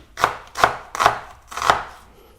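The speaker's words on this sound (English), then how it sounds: "I'm gonna probably cut half of this onion." A knife chops through half an onion on a cutting board in four evenly spaced, crisp strokes, close and clear with no talking.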